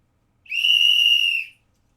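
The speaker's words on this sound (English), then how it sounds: "I need a whistle." A single sustained whistle blast about one second long, loud and shrill, sounding alone with no talk around it.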